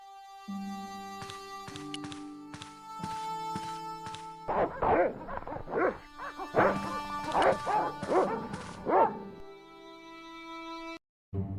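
Dogs barking in the adventure video game Broken Sword, a run of sharp repeated barks and yips over a sustained musical drone, moderately close, followed by quieter music and a brief drop.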